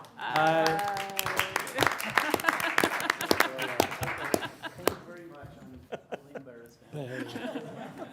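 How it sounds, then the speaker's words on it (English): Audience members at a Bountiful city council regular session clap in a short round of applause mixed with chuckles and talk, fairly close and moderately loud, then it fades into speech. "All in favor of appreciating Todd with a round of clapping"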